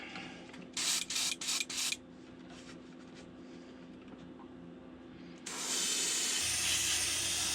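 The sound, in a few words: spray painting one side of a glide bait lure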